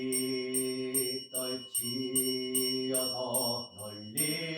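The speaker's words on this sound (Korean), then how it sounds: "종소리" A temple bell rings with sustained, lingering tones during a Buddhist memorial prayer for a temple's tenth anniversary, struck in a steady repeating rhythm against droning chant-like tones.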